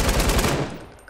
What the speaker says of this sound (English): All I can hear is them gunshots.